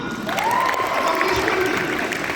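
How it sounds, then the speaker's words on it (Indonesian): Audience applause at a national conference, a dense wash of clapping from a large crowd filling the hall, steady and loud for a couple of seconds with a faint tonal sweep over it. "Tepuk tangan dong."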